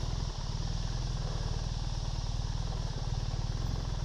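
BMW R 1300 GS Adventure motorcycle engine running steadily nearby, a continuous low rumble with a rapid pulsing beat throughout, loud and alone without talk.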